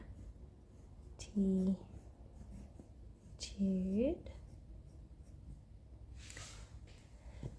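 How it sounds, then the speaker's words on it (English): Pen or marker strokes writing the word gratitude on green paper during a kindness lesson, a soft scratchy scribbling that runs steadily under calm talking. "So in the middle, we're going to write the word gratitude"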